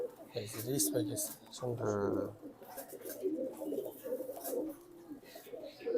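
Racing pigeons in a loft give soft, throaty coos, one clear rolling call standing out near the start, while someone talks over the birds throughout.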